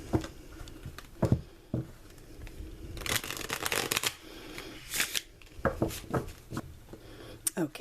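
Jean Noblet Marseille tarot cards being shuffled by hand, with several bursts of crisp riffling and slapping spread across the clip and short gaps between them, close and fairly loud.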